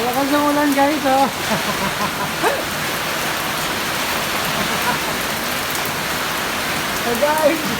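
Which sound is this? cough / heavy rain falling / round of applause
heavy rain falling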